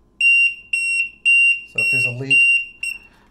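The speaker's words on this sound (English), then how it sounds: "if there's a leak, it's just gonna beep." Loud, close electronic beeping from a DIY water leak detector for a dishwasher, set off by being placed in water: five or six sharp, evenly spaced high-pitched chirps, with someone speaking briefly over the middle beeps.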